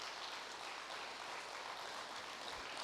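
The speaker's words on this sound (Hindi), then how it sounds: "ताली बजाना तो आता है ना" An audience claps together, a dense steady patter of many hands held evenly throughout, moderately loud and without any talk over it.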